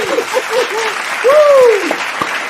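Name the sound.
audience applause at award show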